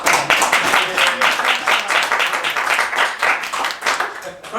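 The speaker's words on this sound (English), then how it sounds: "by a round of applause, is there something there to work with in that bit?" A comedy club audience at Highlander Comedy claps in a dense, steady round of applause that stays loud and close for several seconds, with scattered crowd voices mixed into the clapping.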